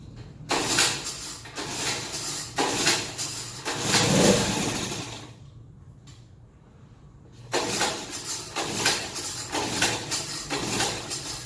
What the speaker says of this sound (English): So let's see if it'll start up the first time.